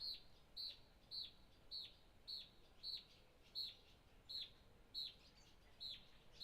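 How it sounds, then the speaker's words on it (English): A single bird chirps outdoors in a regular repeating pattern of short, bright calls about every half second, faint and fairly distant against a quiet background. "Ooh, there's a bird."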